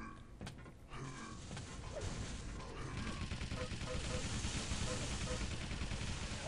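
Machine-gun fire in a capture-the-flag match in the middle of the map: a steady, dense rattle of rapid shots, mixed with other weapon blasts, runs under a talking voice.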